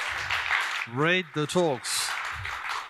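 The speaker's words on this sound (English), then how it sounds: "Again, a big round of applause" Steady audience applause closes a conference talk on cloud-native profiling, filling the moments before and after a man's brief spoken announcement.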